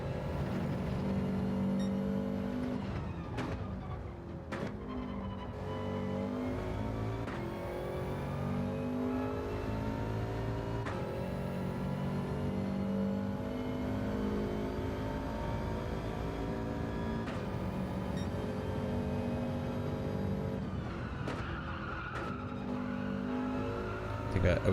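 A race car engine drones steadily in Gran Turismo 7 at Brands Hatch, rising and falling through gear changes, with intermittent tire squeals in the corners, heard at moderate level under a driver's talk.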